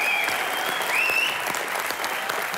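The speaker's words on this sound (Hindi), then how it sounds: "एक बार जोरदार तालियां" A studio audience on a Hindi comedy show applauds steadily for the Salman Khan film Jai Ho, a dense, even wash of clapping from a packed crowd, with a faint whistle or voice riding on top.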